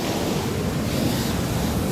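Big ocean waves breaking at a well-known beach in Bali: a continuous, loud roar of surf with wind buffeting the microphone, steady and broadband with no voices.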